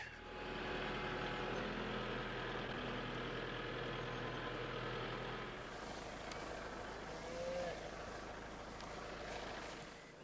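A tractor engine runs with a rake attached on a farm pasture, a steady low rumble at moderate distance holding throughout, with a brief higher tonal whine near the end.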